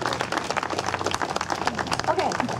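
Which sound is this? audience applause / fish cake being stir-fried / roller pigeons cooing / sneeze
audience applause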